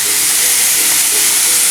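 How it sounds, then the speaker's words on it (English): Marinated skirt steak cooks on a hot surface with a loud, dense, unbroken hiss of sizzling and steam, heard close up with no talk. "And the steam from the meat's gonna cook these kebabs."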